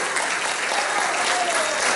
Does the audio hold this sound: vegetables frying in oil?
no